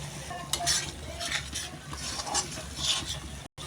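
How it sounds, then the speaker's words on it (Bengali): Turmeric, salt, chili powder, coriander powder and chicken masala fry in hot oil in a pan, giving a soft, steady sizzle with scraping stirring strokes close by and no voices. "দেখুন কিভাবে কি সুন্দরভাবে আমার মশলাগুলো ভাজা ভাজা হয়ে গেছে"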